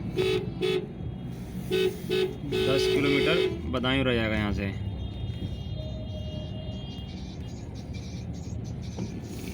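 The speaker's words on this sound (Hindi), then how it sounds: "बड़ी ट्रैफिक रहती है यहाँ पर बदायूं वजीरगंज में।" Busy road traffic in Wazirganj near Badaun, with short car horn toots sounding several times in the first few seconds over a steady engine rumble, while someone talks.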